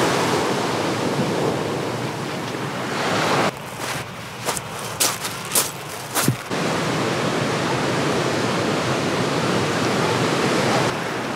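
Ocean waves break on a rocky beach with large rocks on California's Central Coast under a grey marine layer, a steady close surf roar that briefly thins to a few sharp splashes midway before resuming.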